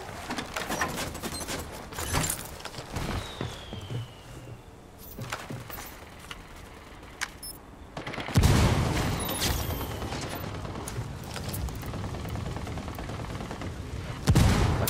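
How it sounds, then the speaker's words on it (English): Enemy gunfire in the tactical shooter Ghost Recon Wildlands: scattered shots and bursts run throughout, with a heavier, louder volley erupting midway and another sharp burst near the end. "Estamos bajo el fuego de armas enemigas."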